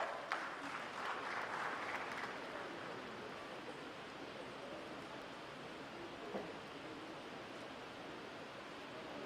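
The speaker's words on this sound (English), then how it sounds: "Let's give them a round of applause." A university congregation audience applauds in a soft, distant wash of clapping that sounds like steady noise, continuing for several seconds.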